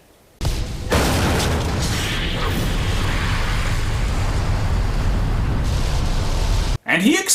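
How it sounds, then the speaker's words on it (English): A movie explosion tied to a mine elevator accident roars out as one sustained, loud, dense blast of noise lasting several seconds, then cuts off abruptly, followed by a brief burst of sound. "And he exploded!"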